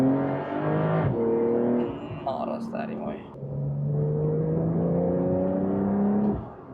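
Porsche 911 Carrera engine revving and running, rising and falling in pitch over several seconds, loud and close, with someone talking over it.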